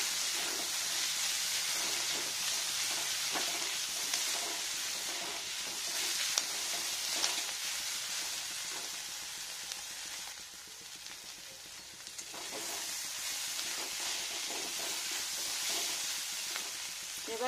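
A cornflakes and vegetable mix frying in a pan is stirred, giving a steady close sizzle and hiss with scraping stir strokes throughout and no talk.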